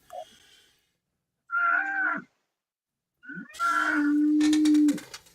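A cow moos in several drawn-out, resonant calls separated by short pauses, loud and fairly close, with no talk over it.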